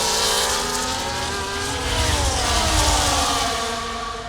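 Formula 1 race car engines in the EA Sports F1 24 video game at the Spanish Grand Prix in Barcelona, Ferrari and Red Bull cars included. A loud, sustained, high-pitched engine whine holds steady with rising and falling harmonics, and no one speaks.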